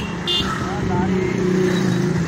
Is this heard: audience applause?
no